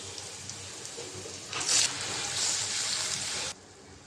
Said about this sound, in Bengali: অল্প পরিমাণে একটু পানি দিয়ে দেব।